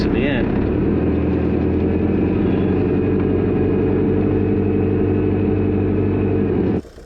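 A car pushing through dense, compact snow drifts, its engine droning loud and steady with a low rumble close by for several seconds before cutting off abruptly near the end.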